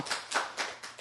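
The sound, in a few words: clapping hands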